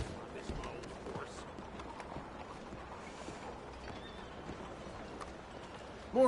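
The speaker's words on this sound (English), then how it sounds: "Hey, this is my old horse." Horse hooves clip-clopping at a steady walking pace in Red Dead Redemption, faint and continuous under a low ambient bed, with a louder sound rising right at the end.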